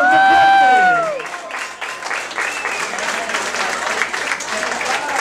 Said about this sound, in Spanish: Un aplauso, por favor, que se escuche el trofeo.